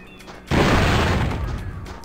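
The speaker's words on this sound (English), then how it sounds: "I was hoping the explosion would take him out" An explosion in the platformer Spyro 3: Year of the Dragon, a sudden loud boom that erupts and roars on with a broad rumble before slowly thinning out.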